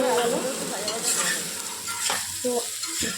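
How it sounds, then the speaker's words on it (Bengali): Steamed, unboiled potatoes fry in a pan with turmeric, sizzling loudly up close while a spatula scrapes and stirs them in short strokes. "আলুগুলো ঠিক একইভাবে লাল করে ভেজে নেব"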